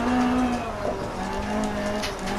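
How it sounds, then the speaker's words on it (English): A rally car in DiRT Rally slides through a handbrake turn on a hairpin, tyres squealing loudly over a revving engine, close and continuous, with no talk. "here's this handbrake turn"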